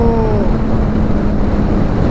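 Suzuki GSX-R 750 motorcycle with an Akrapovic exhaust accelerating hard in third gear, a loud steady engine drone with a rising tone mixed with wind rush, close and continuous.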